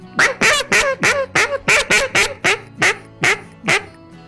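Acrylic Buck Gardner Swap Meat duck call blown softly on a still, windless morning: about a dozen short, evenly spaced quacks, close and clear, with no other sounds.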